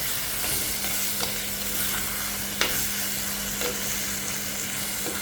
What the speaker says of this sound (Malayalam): ഒന്ന് ഇളക്കി നന്നായി ഇളക്കിയിട്ട് നല്ല മിക്സ് ആയതിന് ശേഷം നമുക്ക് അടച്ചു വെക്കാവുന്നതാണ്